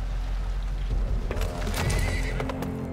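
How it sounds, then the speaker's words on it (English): A horse in the video game Weird West whinnies loudly over steady clip-clop hoofbeats, with a low rumbling ambience underneath. "Oh, you can ride on the back of my horse."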